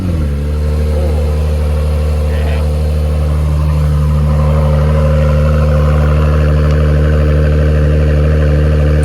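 An Acura NSX with a quad exhaust idles loudly while warming up, a deep, even engine rumble with strong steady tones and only slight swells in revs, close to the listener.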